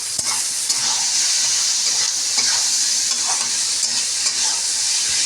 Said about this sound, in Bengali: এবার আমি নাড়াচাড়া করবো আর এটাকে শুকনো শুকনো করে ভাজা করবো।